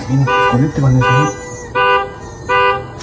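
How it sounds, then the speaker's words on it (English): Car alarms set off remotely with key fobs, sounding as repeated loud electronic chirps and honks in bursts, with a voice-like warble at the start. "Using their key fobs to trigger alarms."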